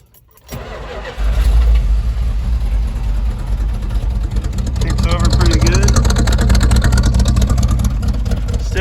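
An old Dodge truck engine cranks and catches, then settles into a loud, rough, steady rumble that grows slightly fuller as it runs, with a voice speaking over it.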